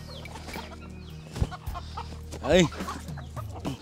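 A fighting rooster on a Vietnamese farm clucks and gives a loud squawking call up close, with someone talking over it.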